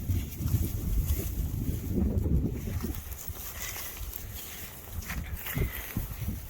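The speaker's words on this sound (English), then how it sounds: "It's very windy out here" Strong gusting wind buffets the microphone outdoors, a loud low rumble that swells and eases without pause.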